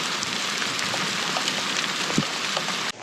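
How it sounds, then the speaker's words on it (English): Rain mixed with hail pours steadily outdoors on farmland in a dense, even hiss with scattered sharper ticks of impacts, before cutting off abruptly near the end. "But there's also rain."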